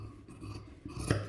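Scissors snip through old cloth folded double, a short crisp cut ending in a louder rasping bite, close and quiet.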